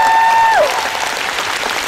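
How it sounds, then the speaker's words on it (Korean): Audience applause at a figure skating show rehearsal, a broad steady wash of clapping lasting about two seconds, with a fading tonal sweep at the start. "스테판 라운드에 다시 한번 박수"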